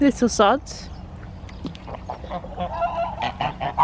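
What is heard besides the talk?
geese honking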